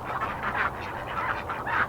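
Garden ducks quack quietly in short repeated bursts at an even rhythm, somewhat distant and soft.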